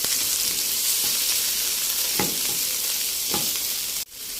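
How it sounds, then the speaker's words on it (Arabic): Chicken liver and gizzards sizzle steadily in a pan, a dense continuous frying hiss with a few soft stirring scrapes along the way, close and fairly loud, ending in a brief clatter. "بفضل اقلب لحد ما الاقي الكبد والقوانص ابتدى لونها يتغير."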